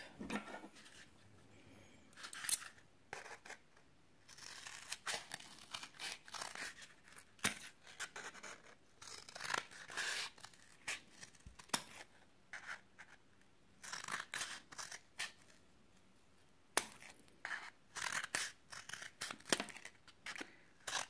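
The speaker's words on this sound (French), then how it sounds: "Une fois qu'on a tracé nos traits, on les coupe." Scissors snip through a cardboard toilet paper roll in short, irregular bursts of crisp cutting and rustling, close and fairly quiet, with brief pauses between cuts.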